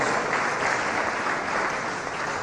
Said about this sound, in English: Please, let's give Japan the round of applause.